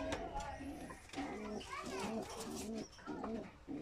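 High-flyer pigeons kept by a mason coo in repeated low, throaty phrases close by, while children's voices and chatter run underneath.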